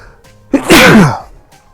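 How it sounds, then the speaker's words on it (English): A single person's sneeze, one sharp voiced burst preceded by a brief intake of breath, close and loud against quiet. "Oh, I gotta sneeze."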